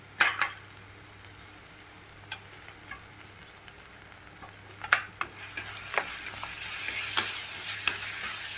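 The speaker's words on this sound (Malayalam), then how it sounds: "ഇനി ഇതിൻ്റെ പച്ചമണം പോകുന്നവരെ ഒന്ന് വഴറ്റി കൊടുക്കുക" Ginger and garlic sauté in a clay pot for fish curry, a soft low sizzle running underneath with a stirring spoon scraping and clinking against the pot several times, growing busier toward the end.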